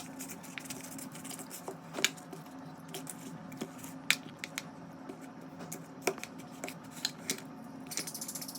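Hilsa fish is mixed by hand with yogurt, turmeric and mustard oil, giving soft, quiet wet squishes and scattered sticky clicks and pats in an irregular rhythm, close up and alone.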